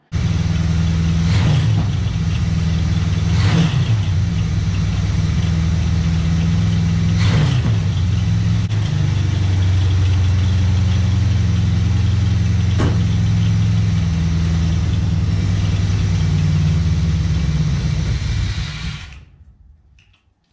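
A 1967 Chevrolet Camaro barn find runs steadily close by for about eighteen seconds, a low engine rumble broken by a few sharp knocks, before the sound cuts off.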